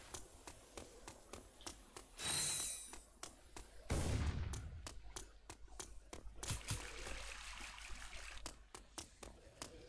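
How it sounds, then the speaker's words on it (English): A water gun sprays in Ratchet & Clank: Size Matters, giving two whooshing gushes of spray set among sharp clicking game effects and quick pops at moderate loudness. "It's a water gun."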